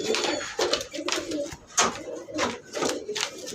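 Pigeons on a farm coo in soft, repeated throaty bursts, several birds overlapping at close range in a steady rhythm.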